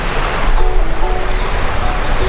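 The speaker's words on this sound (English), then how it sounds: "You just hear the running water all the time, which is super peaceful." Steady rushing water fills the air, a constant broadband flow with no talking, close and fairly loud, with faint chirps above it.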